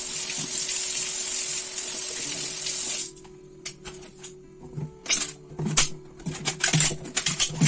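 An eggplant is washed under a running kitchen tap. Water rushes steadily for about three seconds, then shuts off, followed by scattered close knocks and drips from handling.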